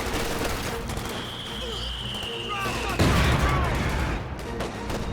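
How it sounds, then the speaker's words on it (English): Rapid machine gun fire and scattered gunshots in the Company of Heroes 2 battle game, MG-42 bursts over a constant battlefield din with a louder impact midway. "a lot of machine guns over here"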